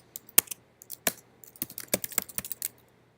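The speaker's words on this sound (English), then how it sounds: "And I just type in." Someone types on a computer keyboard with crisp, close key clicks in uneven bursts. Sparse taps give way to a quicker flurry, and there is no talking.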